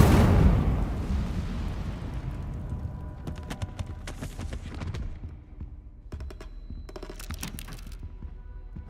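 A fire spell cast in the fantasy video game Hogwarts Legacy bursts with a loud, roaring whoosh of flame that fades into crackling, with sharp magical flickers and bursts following.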